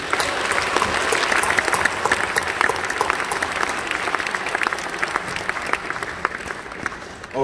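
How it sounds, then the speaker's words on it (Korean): A lecture audience at a Korean business conference in Busan applauds, sustained dense clapping from a large crowd that holds steady for the whole stretch. "우리 한동대 우리 최도성 총장님께 깊은 감사의 박수를 드리겠습니다."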